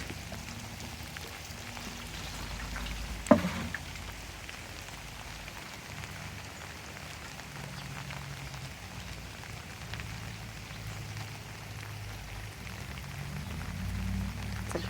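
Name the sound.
rain falling in the garden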